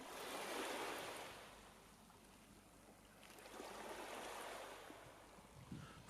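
Ocean waves wash in a steady surf, rising and falling in two broad swells with a windy hiss, no voices present.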